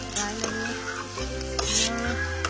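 Garam masala spices sizzling loudly in hot oil in a pan while a spoon stirs and scrapes in short strokes, steady close frying crackle with occasional clicks of the utensil against the metal.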